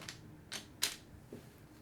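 A few keystrokes on a custom X-Wing Manta mechanical keyboard, three or four sharp clacks spaced unevenly, quiet and close, with no voices.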